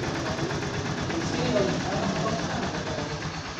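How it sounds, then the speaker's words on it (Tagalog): A TMX Supremo 150 motorcycle engine idles steadily after finally starting, a continuous close chugging rumble with someone talking over it throughout. "mayroong usok pero umandar na yung makina mga sir"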